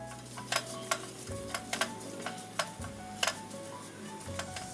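Whole cardamom, cloves and cinnamon pieces dry-roasting in a pan over a low flame, giving a soft steady sizzle with light scattered ticks and taps of the spices shifting against the metal.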